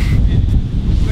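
Strong wind roars and buffets the microphone in a loud, continuous rumble, with no clear voices.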